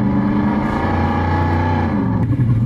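A SoundRacer V8 gadget plays a simulated V8 engine through a car, producing a loud, steady droning rumble that holds and shifts slightly in pitch, sounding like an engine revving.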